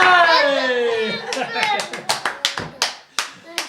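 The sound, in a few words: hands clapping during a board game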